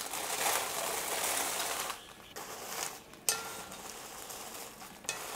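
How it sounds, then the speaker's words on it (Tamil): Dried red chillies dry roasting in a pan for kulambu masala, a continuous dry rustling hiss with a couple of brief pauses and a sharp scrape, no talking. "பரமிளகாய் எடுத்துருக்கோம், அதையும் வறுத்துக்கலாம்."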